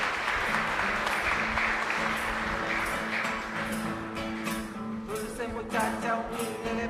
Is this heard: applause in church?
yes